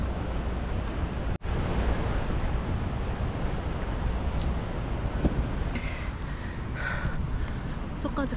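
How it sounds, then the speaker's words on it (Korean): A waterfall at the Stone Arch Bridge in Minnesota gives a constant rushing water roar, broad and steady and nearby, with a brief dropout early and faint voices later. "반대쪽이 완전 폭포네"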